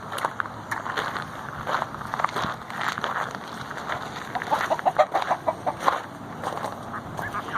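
Cuckoo Maran chickens cluck repeatedly nearby, a busy run of soft clucks and cackles that grows livelier toward the end.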